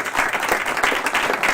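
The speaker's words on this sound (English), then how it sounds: "So let's give them one more final round of applause." A brief round of audience applause at a school board of education meeting, many hands clapping in a steady, moderately loud patter with no voices over it.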